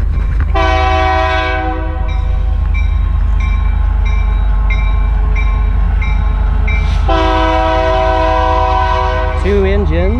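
A loud, near freight train horn blares in two long sustained blasts over the heavy rumble of a passing two-locomotive TP&W freight train.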